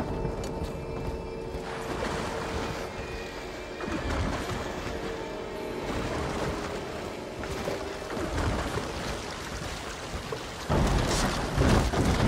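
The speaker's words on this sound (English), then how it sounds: "if you feel the soft patter of rain on your hat" Rain and thunder in the video game Bioshock 2 at the Adonis Resort level: a dense, continuous rain wash with low rumbling surges and a louder thunderous burst near the end, no speech.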